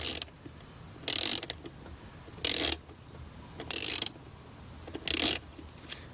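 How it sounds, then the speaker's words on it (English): A ratchet wrench tightens a bolt on the plastic intake of a 2024 Mustang GT, four short bursts of rapid close clicking separated by brief pauses, with no talk. "So we're going to tighten that side just right there."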